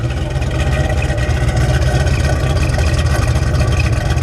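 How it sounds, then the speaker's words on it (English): A deep, steady V8 exhaust rumble from a 1971 Dodge Charger R/T with a 426 Hemi engine idling close by, continuous and loud with a throbbing low drone. "a little bit of the exhaust note here"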